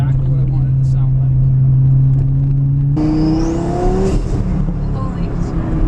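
A twin-turbo Lamborghini Gallardo engine holds a steady drone, then revs higher with a rising pitch sweep and turbo whine, close and loud, with people talking over it.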